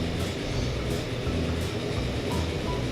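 Train running in the video game Transport Fever, a steady rumbling rail drone with faint periodic clacks at a regular rhythm, no talking.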